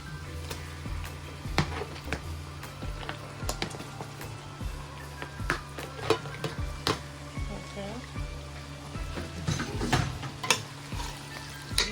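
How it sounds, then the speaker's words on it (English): Pork belly pieces sizzle and fry in a hot pan with steady crackling, while occasional stirring scrapes and clinks break through, and a person talks over the cooking. "now I'm going to add in my pork belly pieces. Okay. We'll go ahead and toss this in"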